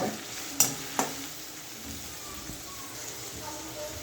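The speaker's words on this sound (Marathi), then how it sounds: "कांदा आपल्याला असं थोडासा गुलाबी कलर येईपर्यंत असं मस्त छान फ्राय करून घ्यायचा आहे" Chopped onion fries in a pan for a thecha okra dish, giving a steady, soft sizzle while it is stirred, with two sharp clinks of the spoon against the pan near the start.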